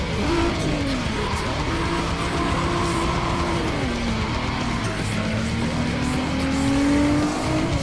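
Nissan car engine in Need for Speed ProStreet, upgraded, heard from a hood-mounted camera during a race: a loud, steady engine drone that rises and falls with shifts, with tire squeal, continuous throughout.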